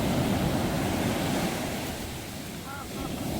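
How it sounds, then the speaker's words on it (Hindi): Ocean surf washing steadily onto a beach in Bali, a continuous broad roar of breaking waves with wind buffeting the microphone, fairly close and loud throughout. "तो भाई अपन लहरों के मजे ले रहे हैं।"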